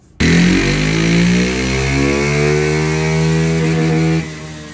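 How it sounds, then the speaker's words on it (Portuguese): A Honda Pop 110 motorcycle with a loud exhaust roars past close by, its engine note rising and then falling away over a few seconds. "para vocês poderem ver o story da moto e o momento que a moto passou aqui"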